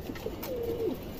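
A single soft pigeon coo, a low, gently warbling call heard close up against faint background noise, from a pigeon at a bird market.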